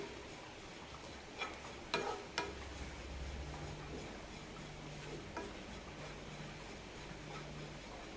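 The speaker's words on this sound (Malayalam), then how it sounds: "തേങ്ങയുടെ വെള്ളത്തിൻ്റെ അംശമെല്ലാം വെറ്റിയിട്ടുണ്ട് രണ്ട് മിനിറ്റ് കൂടി റോസ്റ്റ് ചെയ്തെടുക്കാം" Grated coconut roasts in a dry pan with a faint steady crackle, broken by a few sharp clicks of a spoon against the pan.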